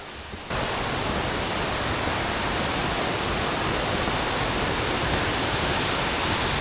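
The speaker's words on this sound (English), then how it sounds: "So that's the waterfall there." A waterfall near a cave at night roars as a steady, loud, broadband rush. It starts abruptly after a brief quiet moment and carries on unchanged, with no voices.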